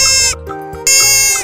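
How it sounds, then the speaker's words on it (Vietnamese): A deer calls in two loud, drawn-out bleating cries close by, the second following a brief gap, with no talking over them. "Con nai."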